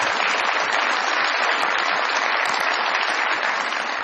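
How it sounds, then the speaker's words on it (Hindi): Studio audience at a Pakistani comedy talk show bursts into sustained, dense applause welcoming a politician guest, steady and loud throughout with no pauses. "बहुत सारी तालियों में वेलकम कीजिएगा जनाब हनीफ अब्बासी साहब"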